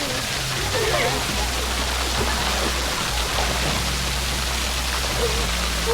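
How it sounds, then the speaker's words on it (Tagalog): A waterfall at Brizamar Resort pours with a constant broadband rush of falling water, steady throughout, with people talking in the background over it. "ganda ng waterfall"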